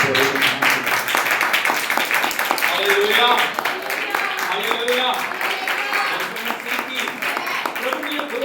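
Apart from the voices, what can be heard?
church congregation clapping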